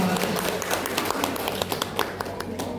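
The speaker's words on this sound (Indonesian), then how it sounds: "Tepuk tangan dulu Bapak Ibu untuk kita semua." Audience clapping at a school dissemination session, a steady patter of many hands with sharp taps spread across the whole stretch, fairly close and continuous.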